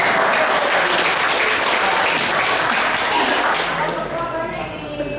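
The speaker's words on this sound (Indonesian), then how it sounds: "Tepuk tangan Mas Aldi." An audience at an Indonesian meetup in Yogyakarta breaks into loud, dense applause that holds for several seconds and then gradually thins out as the clapping tapers off.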